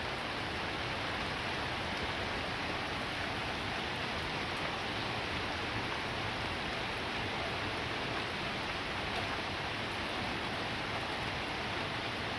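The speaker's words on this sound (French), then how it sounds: "La pluie s'intensifie." Heavy rain pours steadily during a moderate-to-strong September thunderstorm, a constant dense hiss of drops with no talk.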